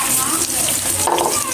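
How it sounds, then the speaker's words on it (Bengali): Fish sizzling as it fries in hot oil in a home kitchen, a steady crackling hiss heard close up for a brief moment. "এই মাছগুলো লাল লাল করে ভেজে নেবো।"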